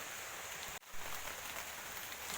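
Rain falls steadily as a dense, even hiss, close and continuous, with a brief dropout near the start and no talk.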